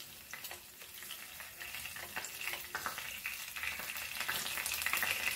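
Cumin seeds and curry leaves fry in hot oil for a Goan stuffed padwal dish, making a close crackling sizzle with scattered pops that grows slightly louder.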